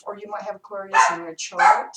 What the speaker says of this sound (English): Excuse my dog, I'm sorry.